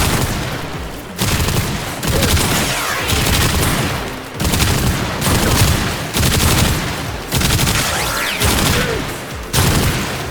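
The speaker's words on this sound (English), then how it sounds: "I use it like a burst weapon so that it kind of refills the ammo." Rapid bursts of gunfire from a weapon fired in short bursts in Warframe PC gameplay, loud repeated volleys separated by brief pauses, with layered booms and no talking.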